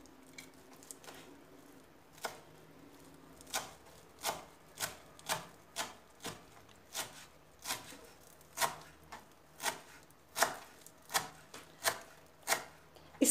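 Parsley and dill being cut small with a knife on a cutting board, a soft, steady series of light chops about twice a second, close but faint, with no voices.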